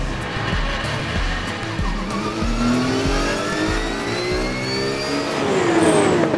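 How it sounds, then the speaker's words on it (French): Race cars sit on the grid at the Paul Ricard circuit, engines idling and revving loudly up close, with pitch sweeps from passing or accelerating cars layered over a steady engine roar. "les concurrents se placent sur la grille avant de procéder au traditionnel tour de chauffe"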